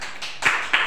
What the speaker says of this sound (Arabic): صفقوا عليها